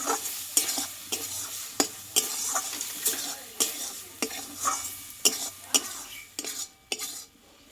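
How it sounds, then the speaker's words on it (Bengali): Boiled lentils fried with spices in a pan, stirred in a steady rhythm of loud metal spoon scrapes and clinks against the pan over a continuous sizzle, close and with no talking. "এইবার এখানে সেদ্ধ করে রাখা ডালটা আমি দিয়ে দেবো দিয়ে মশলার সঙ্গে আরও কিছুক্ষণ মতো নিই কষিয়ে নেব ডালটাকে"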